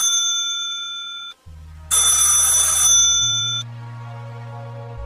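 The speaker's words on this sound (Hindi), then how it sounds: "जल्दी से घर जाकर अपने भाई राम को फोन करता है" An electronic phone ringtone chimes in repeated bursts, loud and close, with a low tonal hum between rings.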